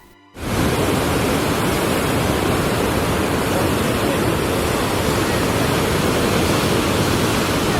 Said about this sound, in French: Les Saltos del Petrohue sont de superbes cascades bouillonnantes qui dévalent un canyon étroit en pierre volcanique